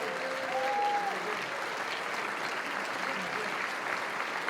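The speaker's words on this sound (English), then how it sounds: "please give a nice round of applause for Dick Flavin." Steady, sustained applause from an audience fills a Massachusetts Broadcasters Hall of Fame induction ceremony, even and unbroken throughout. A brief voice or whistle rises faintly near the start.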